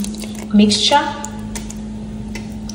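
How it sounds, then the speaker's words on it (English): Blended ginger and onion being poured into a mixture in a home kitchen, a brief wet squishing, dripping splash lasting about half a second, with a person talking over it. "This is a blended ginger and onion. I'm going to be pouring it into this"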